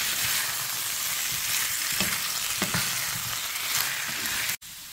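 A mustard chicken mixture seasoned with nutmeg is stirred in a hot pan, giving a steady close sizzle with a few soft scraping strokes, before it cuts off abruptly near the end.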